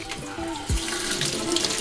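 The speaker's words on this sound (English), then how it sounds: "Just make sure you rinse it nice and thoroughly." Running tap water pours over a leek as it is rinsed at a kitchen sink: a steady, close splashing stream with small shifts as the leek moves under the flow.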